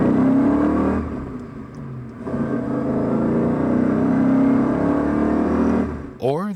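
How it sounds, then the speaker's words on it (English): BMW car engine accelerating, a steady loud whirring drone with rising tones that dips briefly then swells again, with a quick sweeping whine at the very end. "Listen to the excited song of a BMW engine as it accelerates."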